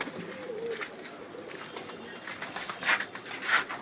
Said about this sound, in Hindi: सभी दूर के सभी बड़े बड़े शहरों से लाए गए कबूतर हैं।